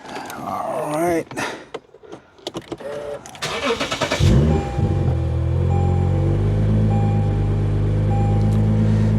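A 2019 Lexus RC350 F Sport with undercarriage damage cranks and catches, then settles into a steady, loud idle with a low engine drone, preceded by brief talk and clatter.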